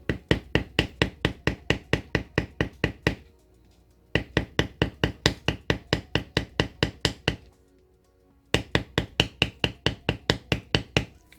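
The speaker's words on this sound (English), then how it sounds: "I place the deeper end of the foot right up against our cut that we made with our swivel knife, and then I'm just going to tap and walk it along with my hammer" Steel hammer tapping a leather beveling tool as it is walked along a swivel-knife cut in leather, three runs of rapid, even, close-up knocks separated by short pauses.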